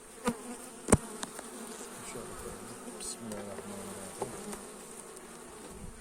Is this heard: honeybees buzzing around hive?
yes